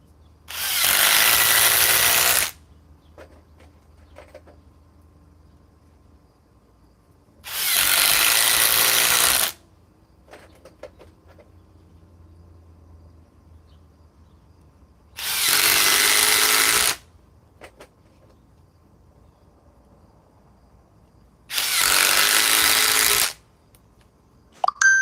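A Ryobi PBLIDO2 impact driver with 2,200 inch-pounds of torque, powered by a 4 amp Edge battery, runs in four separate bursts of about two seconds each, loud and close, with quiet pauses between them.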